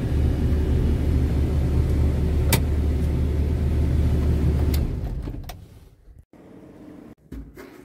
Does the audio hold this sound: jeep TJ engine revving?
yes